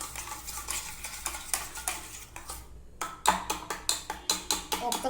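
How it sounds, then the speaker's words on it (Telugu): A spoon stirs egg dosa batter made with eggs and rice in a bowl, quick repeated scraping clinks and sloshes, close and busy, pausing briefly midway before resuming faster. "ఇది ఒకసారి బాగా కలుపుకుందాం"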